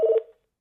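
A single short telephone keypad tone sounds once, clear and close, then cuts off into silence.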